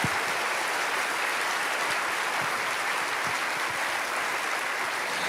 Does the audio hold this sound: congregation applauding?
yes